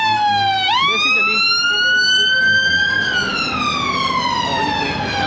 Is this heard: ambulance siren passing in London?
yes